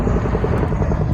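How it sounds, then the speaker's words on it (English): A twin-rotor Chinook helicopter passes nearby outdoors, its two sets of blades making a loud, fast, steady thudding over a deep engine roar. "Let's see if I can get this helicopter in a shot."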